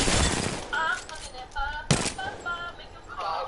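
Rapid gunfire bursts from a weapon in the battle royale game Apex Legends crackle in short, loud volleys, with one sharp spike midway and tonal game effects between the shots.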